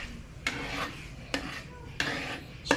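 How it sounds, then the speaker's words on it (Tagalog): Thickened chicken BBQ sauce with cornstarch stirred in a pan, heard as four distinct scraping strokes of a utensil across the pan at a steady pace, close up with no voices. "So ilagyan na po natin ang ating cornstarch para lumapot yung ating sauce. Haluin lang po natin."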